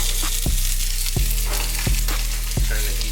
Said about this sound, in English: So we're gonna start sauteing these onions.